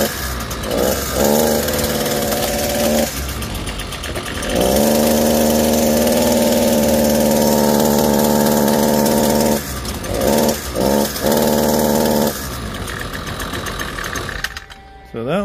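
Weed eater two-stroke engine being revived after repair, running roughly with loud uneven revving, sputtering bursts and surges that drop out and catch again, close by.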